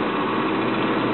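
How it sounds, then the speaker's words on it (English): A Ford car engine runs close by with a steady, rumbling drone near 2,000 RPM, holding an even pitch throughout. "Oh, it is revving my engine right now."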